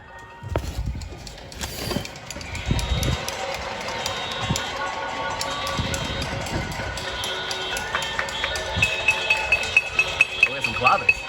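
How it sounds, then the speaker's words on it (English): Claves played by people at their windows on a New York City evening, sharp wooden clicks in an irregular rhythm that quicken into a steady run of taps near the end, amid street noise and voices. "we got some claves going on"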